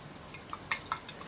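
Sauer apple cider poured from a small can into a glass, heard as a faint, quiet trickle of liquid with a few soft drip-like splashes close by.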